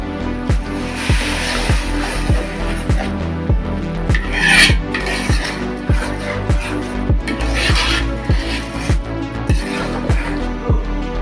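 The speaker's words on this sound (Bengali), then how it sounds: "এইভাবে নাড়তে হবে সারাক্ষণ, নইলে লেগে যাবে।" A spoon scrapes and stirs chicken roast curry in a pan in a steady, repeated rhythm, roughly two strokes a second, with a constant tonal hum running underneath.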